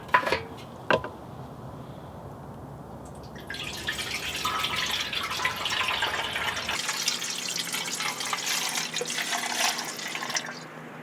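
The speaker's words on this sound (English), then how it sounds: "So I'm going to go ahead and pour this apple cider vinegar in here." Apple cider vinegar pours into a rusted Yamaha DT Enduro motorcycle fuel tank, opening with a few sharp knocks, then a steady splashing, gurgling stream that carries on for several seconds before tapering off.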